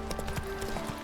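Horse hooves clip-clopping at a gallop in The Witcher 3, a quick rhythmic series of close, moderately loud hoofbeats over a steady game background hum.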